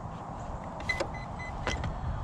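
A Redcat Kaiju EXT RC truck powering up, giving a couple of short electronic chirps and whirs over a steady low background hiss, fairly quiet and close.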